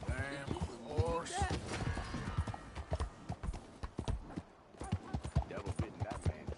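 Horse hooves clip-clopping in the video game Red Dead Redemption 2, a quick steady rhythm of hoofbeats running under frequent character speech and shouting throughout.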